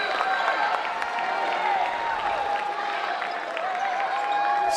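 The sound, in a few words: basketball crowd cheering and applauding after a block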